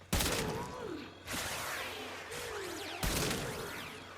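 Kuva Chakkur sniper rifle fire in the Warframe video game: three loud, sharp shots roughly a second and a half apart, each trailing into a long whooshing, explosive tail. No voices.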